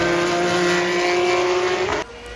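Formula 3 race cars on a circuit near Barcelona, a loud sustained high engine whine with a slight upward pitch glide that cuts off abruptly near the end.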